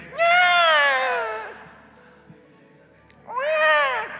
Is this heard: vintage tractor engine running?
no